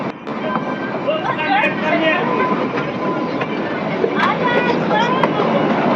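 The Kalka–Shimla toy train runs through hill country near Summer Hill, with a steady close rumble of wheels and wagons and thin metallic squeals over it, while voices are heard among the passengers.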